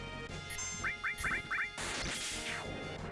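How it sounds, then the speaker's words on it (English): Birds squawk in the Final Fantasy 7 video game, a series of short quacking cries in quick succession over a steady game soundtrack, followed by a louder burst of crashing action. "We caught these birds by surprise."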